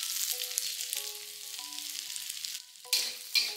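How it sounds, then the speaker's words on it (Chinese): Black peppercorns and curry leaves are stir-fried in hot oil after garlic and scallion, making a bright, continuous sizzle over a faint tonal hum, then two quick spatula tosses that briefly raise the crackle. "我只是翻炒了几下，哇，整间屋子都是那个胡椒的香味。"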